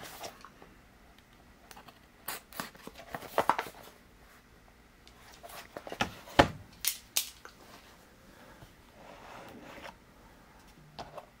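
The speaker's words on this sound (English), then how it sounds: "Fortunately, I have a box cutter right here." A box cutter slicing through the factory seal on a knife box, giving a series of short, scattered scratching and snapping cuts, close and fairly quiet, with pauses between strokes.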